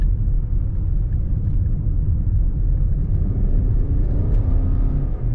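A Toyota Crown Sport in eco mode accelerating on a winding road, its engine a deep, steady rumble with a whirring note inside the cabin and no voices.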